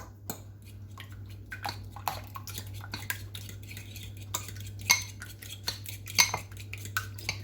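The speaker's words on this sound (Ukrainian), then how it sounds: "Все це я вилочкою ось так розмішаю." A fork mixes cauliflower appetizer ingredients with mayonnaise in a dish, making repeated close clinks and scrapes against the bowl in an irregular stirring rhythm, with no talking.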